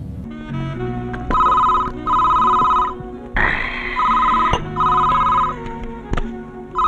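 A telephone rings with a bright, repeating electronic trill in a comedy scene. The bursts run close and loud with short gaps between them, and a brief clatter and some background noise sit between the rings.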